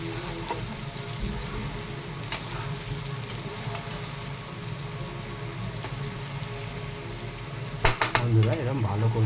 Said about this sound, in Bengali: বন্ধুরা, মশলাগুলো কষিয়ে নিচ্ছি।